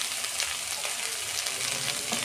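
Small shrimp fry in a pan as a little turmeric goes in, making a constant close, dense sizzle with no pauses.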